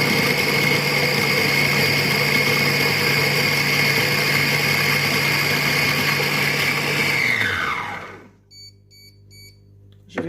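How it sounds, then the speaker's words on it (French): Compact Cook Pro M6 food processor chopping peppers on its chop program: a loud, steady motor whine with a constant pitch that winds down and stops after about eight seconds, then faint beeps. "Donc je vais mettre le programme haché."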